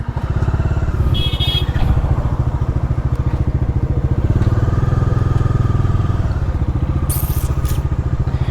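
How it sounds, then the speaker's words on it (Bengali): A Bajaj Dominar motorcycle turning around, its engine idling and revving in a loud, steady, close throb with a fast pulsing beat and brief higher squeaks over it. "আমার বাইক ঘুরাইতে অনেকটা সময় লাগে"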